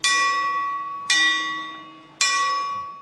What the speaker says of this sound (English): a single bell rings, informing the brothers that it's time to stop praying on their own and start praying in church